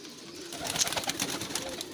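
Pigeons cooing at a pigeon club, soft repeated throaty coos and fluttering calls, faint and close, with no talking.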